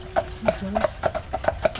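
Carriage horses clip-clop along a park road in Stanley Park, Vancouver, with crisp, close hoofbeats in a steady, even rhythm of roughly three strikes per second.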